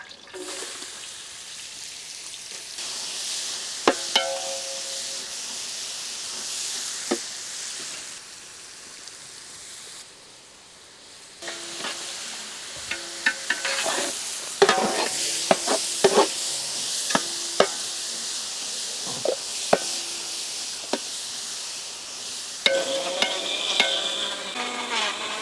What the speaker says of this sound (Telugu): దీంట్లోనే మనం ముందుగానే కట్ చేసి పెట్టుకున్న ఆనియన్స్ ఫ్రై చేద్దాం